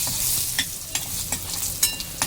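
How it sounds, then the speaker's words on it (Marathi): Garlic fries in hot oil with red chillies for a spicy tempering, a steady sizzle under repeated scraping stirs of a spoon against the pan, close and clear, with no talking. "मी याच्यात लसूण घालणार आहे. लसूण व्यवस्थित थोडंसं लाल होऊ द्यायचा."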